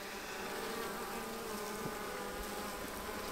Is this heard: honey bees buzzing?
yes